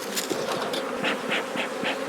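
Dense swarm of honeybees humming steadily at an open hive holding tens of thousands of bees, with a few louder buzzing passes as individual bees fly close by.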